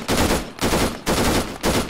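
Rapid automatic gunfire in the military game Arma during a ShackTac beach assault, four close, loud sustained bursts of about half a second each, separated by brief gaps, with no talking.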